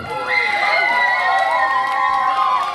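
Fair crowd outdoors during a singing contest, the audience clapping and cheering for the first singer, with voices shouting over it in a lively, sustained swell of noise.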